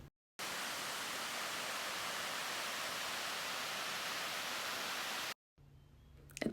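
Talofofo Falls in Guam pours as a steady, loud waterfall roar that holds constant for about five seconds, then cuts off abruptly to quieter ambient noise.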